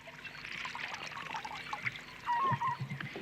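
Spring water trickles and pours at the base of a massive cliff amid green vegetation by a bay, a faint continuous splashing flow with a slightly louder gush near the end.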